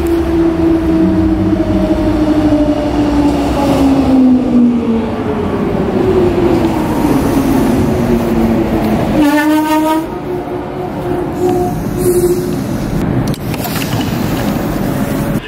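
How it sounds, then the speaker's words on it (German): A Class 420 electric commuter train, running empty, rumbles loudly past close by in Düsseldorf, its motors whining in tones that slide downward as it goes. "Hier jetzt gerade kam eine leere 420 aus Langenfeld zurück."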